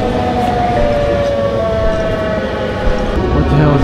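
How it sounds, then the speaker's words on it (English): A loud, steady video game siren wails with a long sustained tone that shifts pitch partway through, over a dense rumbling background. "The siren again."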